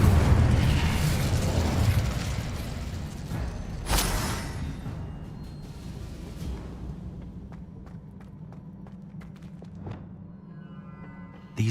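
A fire spell cast in a fantasy wizarding video game bursts loud at the start, with a short flare near four seconds. It then fades into a low steady hum and a few faint clicks.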